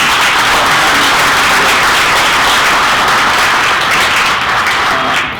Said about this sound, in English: please give the brother another round of applause.